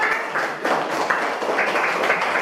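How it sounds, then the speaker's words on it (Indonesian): A classroom of students claps together for classmates who came to the front during a geometry lesson, a dense, even patter of applause lasting a couple of seconds with no talk. "Tepuk tangan buat semua yang maju tadi."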